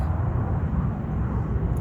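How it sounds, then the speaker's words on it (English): Airplanes passing overhead near an airport, a low, steady roar that fills the background without any talk, constant in level for the short stretch. "You could probably hear the airplanes going over me right now."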